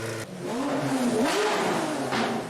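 A Pagani Zonda HP Barchetta supercar engine revs loudly and close, its pitch rising and dipping in smooth swells across the stretch with no talk over it.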